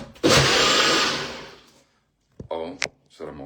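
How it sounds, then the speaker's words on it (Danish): A blender whirs loudly for about a second and a half while mixing a morning shake, then winds down and stops, followed by short bursts of talking and clatter. "Så lige en tur i blenderen."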